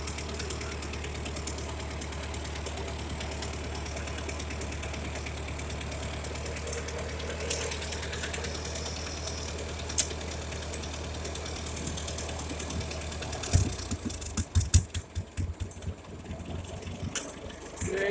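A Ferguson TO-35 tractor engine idles steadily with a low rumble, then irregular popping bursts from an exhaust leak break in near the end.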